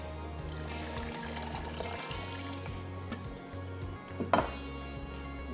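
Water is poured from a cup into a pot of sugar to make syrup, a soft, steady trickle close by, with a brief clink of a utensil against the pot near the end.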